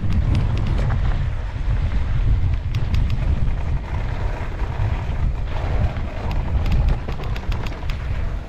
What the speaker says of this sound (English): Nice and windy.